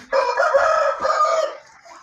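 A rooster crows loudly and close by, one long drawn-out call lasting about a second and a half before it trails off.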